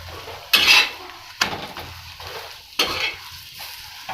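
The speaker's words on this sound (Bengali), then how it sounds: "এইরকম ভাবে সব কটাকে আমি ভেজে নেব" Peas paratha frying in a pan, a continuous sizzle broken by three loud scraping, clattering strokes of a spatula, close and with no voices.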